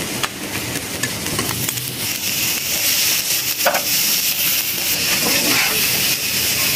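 Chopped onions frying in a pan for chicken samosa filling, a continuous hiss and sizzle with occasional stirring scrapes and clicks, steady and close throughout.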